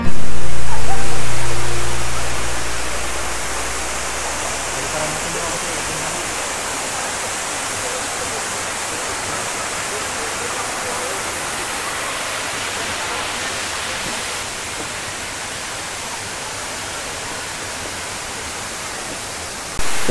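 Balaybayen waterfall in Berong, Quezon, Palawan, a tall fall of about 40 to 50 meters, roars as a loud, steady, broadband rush of crashing water that fills the whole scene.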